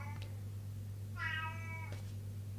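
A domestic cat gives a single clear meow midway, close and fairly quiet, over a steady low electrical hum with no talking.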